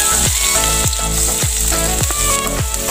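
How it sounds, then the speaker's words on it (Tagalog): Garlic sautéing in hot oil in a pan for bopis na langka, a loud bright sizzle broken by rhythmic stirring scrapes about every half second, close up with no talk. "Ngayon, nagigisa natin itong bawang."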